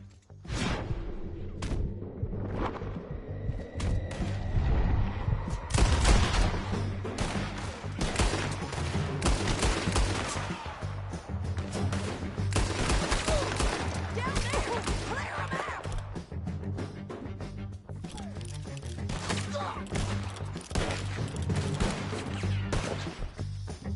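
Dense gunfire rattles through a shootout in Red Dead Redemption 2, rapid overlapping shots and crashes from near and far keeping up for the whole stretch, with brief voices now and then.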